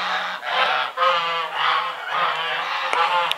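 Domestic geese in a village backyard honk loudly and repeatedly at close range, a rapid series of nasal calls running continuously for a few seconds with no talking.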